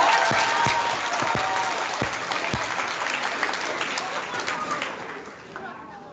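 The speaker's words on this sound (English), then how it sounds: "Let's give them another round of applause." Audience at a fifth grade ceremony claps for a class, a lively burst of many hands with a few sharp near claps and some chatter underneath, fading gradually.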